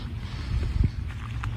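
Mountain wind buffeting the microphone from a hillside lookout above the sea, a continuous low rumble with gusts swelling briefly, no voices.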